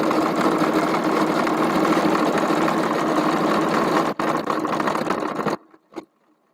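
A sewing machine runs a long straight seam with a steady, close, whirring motor hum for about five seconds, then stops abruptly, followed by a soft thump.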